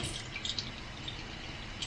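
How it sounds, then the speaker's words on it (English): Soapy water sloshes and drips while the greasy burner assemblies of an old Coleman camping stove are washed, with faint close splashes and trickles over a low, steady background. "we're just going to use some soapy water to get these cleaned off"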